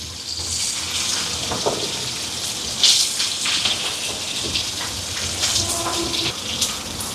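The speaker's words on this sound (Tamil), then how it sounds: "உள்ளி சேர்க்கிறேன் இது நல்லா வதங்கட்டுக்கும்" Onions, shallots, garlic, green chillies and curry leaves with mustard and fennel seeds sizzle and crackle in hot oil in a pan, a steady close frying hiss with occasional sharper pops, with no talking.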